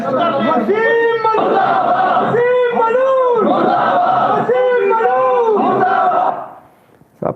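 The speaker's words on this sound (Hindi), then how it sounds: "सब पागलों की भीड़ भी लग गई" Crowd of protesters shouting slogans in loud rhythmic unison, repeated chanted phrases rising and falling continuously for about six seconds before cutting off abruptly.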